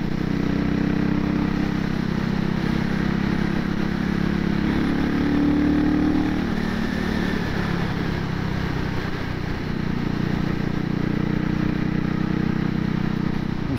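A CCM Spitfire MK1 motorcycle on its first ride, its engine droning steadily and continuously under wind noise, loud and close with no talking.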